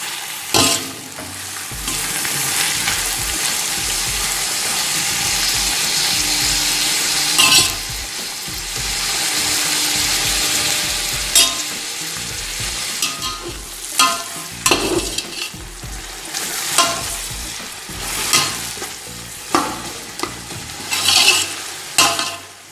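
Whole spices such as bay leaf and cinnamon frying in a pot for chicken korma give a steady sizzle. A spoon stirs and scrapes them, with sharp metallic clinks growing more frequent toward the end.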